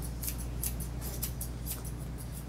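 Scissors snip repeatedly through a Yorkshire Terrier's fur during grooming, a quick irregular run of crisp close cuts over a steady low hum.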